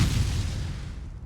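A brief, dense explosion from the game Ion Fury, a heavy low rumbling burst with noisy crackle that decays quickly over about a second.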